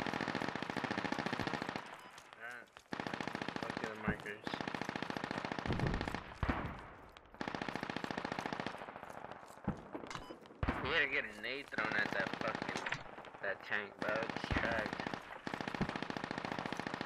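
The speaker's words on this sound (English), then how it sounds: "There's, shots coming, so." Sustained gunfire in the Squad video game, long loud bursts of automatic shots with brief gaps over the roughly seventeen seconds, with talk mixed in.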